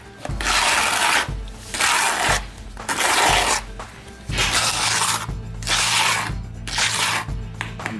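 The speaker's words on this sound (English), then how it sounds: "we have to scrape the sides of the bucket because as you see, there's a lot of unmixed material right here" Trowel scraping unmixed concrete overlay mix off the sides of a bucket during a DIY brick-stamped overlay job, in repeated loud rasping strokes of a second or two each with brief pauses between, no talking.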